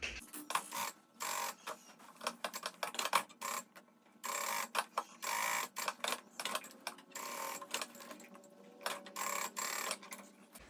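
A sewing machine stitches all the way around the layered fabric pieces of a bag, running in short stop-and-start bursts with quiet pauses between them.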